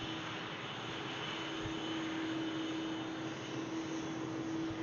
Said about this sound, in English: And now I guess the Dreamliner is lining up for the runway.